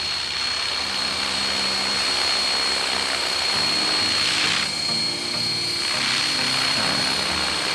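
An ALZRC Devil X360 RC helicopter descends to land, its rotor and motor producing a steady loud whine and whir that shifts in pitch as it settles, with no voices.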